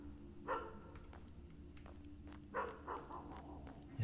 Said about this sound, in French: Oh, il y a un chien.